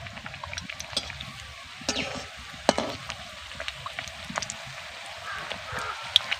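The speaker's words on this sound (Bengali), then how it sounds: "তেলকে আমি ভালো করে গরম করে নিয়েছি এবার পুরিগুলোকে আমি দিয়ে দেব একসঙ্গে আমি দুটো করে পুরি ভাজবো" Two puris at a time fry in well-heated oil, giving a steady bubbling sizzle with crackling pops and a few sharper spatters, close by and fairly loud, with no talk over it.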